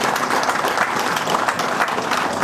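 An audience applauds at a presentation on a loft redevelopment project. The clapping is dense and continuous, a steady wash of many hands with no break.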